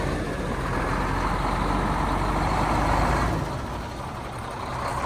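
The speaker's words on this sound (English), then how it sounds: "Today, Ethan and I start our farming adventure with a telehandler and an old Volvo truck with no door." A steady diesel drone from an old Volvo truck with no door running at a farm on the first day of planting, loud and close throughout with a slight swell midway and no talk.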